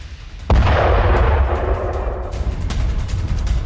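A single loud explosion bursts suddenly in Donetsk, then a rumbling roar slowly fades and lingers.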